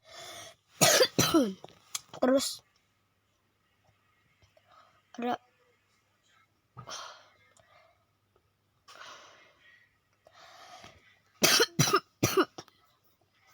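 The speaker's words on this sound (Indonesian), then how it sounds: "maaf guys kalau aku batuk-batuk" Repeated coughing and throat clearing from someone who is sick, in short clusters at the start and a louder burst near the end, with whispery speech and quiet pauses between them.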